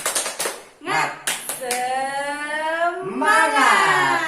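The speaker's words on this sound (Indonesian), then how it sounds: "Ya, kita tepuk semangat dulu." A group does a spirited clap routine in a teaching session, with a few sharp claps near the start giving way to loud, sustained voices chanting together over any further clapping.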